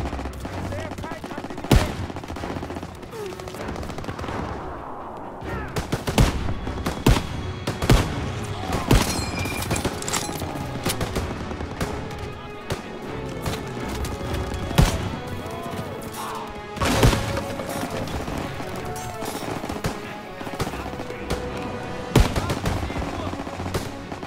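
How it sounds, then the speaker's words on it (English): Dense Call of Duty WWII battle with machine gun fire rattling through, mixed with sharp gunshots and explosive bursts over a steady din of combat, with voices heard intermittently. "MGs are tearing us up!"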